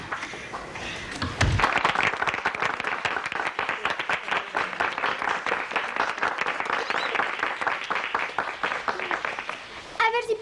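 Studio audience applause on a television comedy set, a dense wash of clapping that starts abruptly and holds steady for several seconds, mixed with voices.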